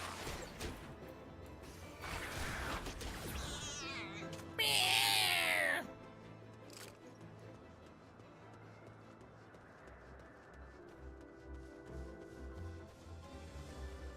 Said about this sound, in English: I love that this is making cat noises.